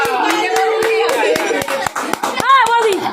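Family members clap hands at home in a quick, sharp series of close claps, roughly even in rhythm, while voices talk and a child chatters over them.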